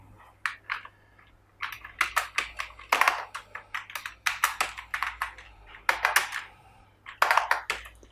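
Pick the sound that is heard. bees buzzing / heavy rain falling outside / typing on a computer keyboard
typing on a computer keyboard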